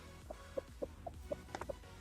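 Short, soft clucks from a broody hen, about seven of them in an uneven rhythm, close by with faint barnyard background noise.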